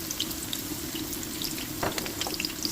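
Onion hits hot oil in a pot on the stove for callaloo, giving a dense, steady sizzle and crackle with small pops that swell slightly near the end.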